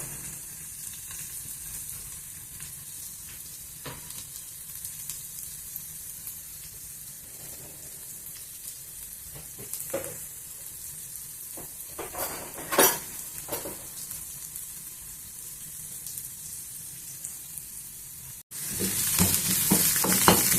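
Sliced onion, green chili and curry leaves fry in a pan with a continuous soft sizzle, occasional stirring clinks and scrapes, and a louder burst of frying near the end, with no talking.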